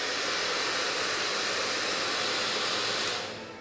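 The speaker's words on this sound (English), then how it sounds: "So out comes my secret weapon, my hairdryer." A hair dryer blows hot air onto a bundt cake tin in a kitchen, a loud steady whoosh held for about three seconds, then tapering off at the end with no talking.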